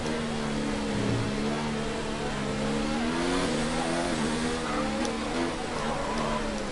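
Race car engine in a Monaco racing video game drones and revs continuously, pitch rising and falling through gear changes, loud and steady throughout.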